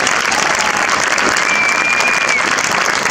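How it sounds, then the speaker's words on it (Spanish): A large crowd at a rowing regatta applauds the winning women's boat crew from San Juan in a loud, continuous wash of clapping, with a faint whistle briefly riding over it. "recibir con un aplauso a la embarcación de San Juan, las bateleras vencedoras"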